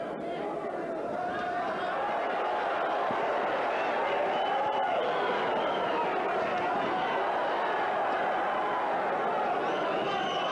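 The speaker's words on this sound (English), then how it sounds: "these the crowd enjoying these pot shots from Barrera" Arena crowd at a Marco Antonio Barrera versus Angel Rosario boxing bout, a steady roar of chatter and cheering filling the whole stretch, loud and continuous with no single punch standing out.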